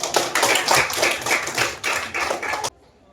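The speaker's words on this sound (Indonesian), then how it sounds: "terima kasih kepada kelompok 2, kasih aplaus" A grade VII classroom at an Islamic junior high school breaks into loud, close applause from many hands for a student group, a dense rattle of claps that lasts nearly three seconds and then cuts off to near silence.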